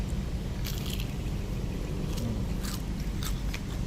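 Crispy fried chicken bought for RM1 is bitten and chewed close to the microphone, giving a steady run of crunchy, crackling bites over a dense, constant low background rumble.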